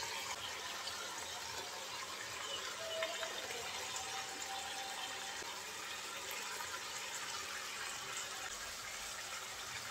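A fish tail drops into a hot pan of spices, giving a steady, even sizzle and hiss that runs unbroken for the full length, moderately quiet and with no voices.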